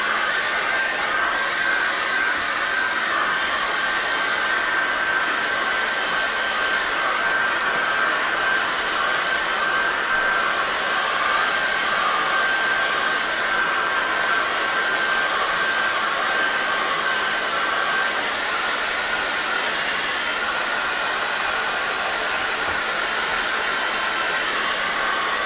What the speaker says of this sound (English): And you've guessed it, hairdryer again